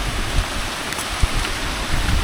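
A waterfall on a monsoon hill near Virar gives a steady, loud broadband rush of falling water, with a few brief splashes and thumps and no speech.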